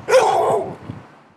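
A tethered dog barks loudly as police officers walk straight toward it, a burst of close, sharp barking fading into quieter trailing yelps.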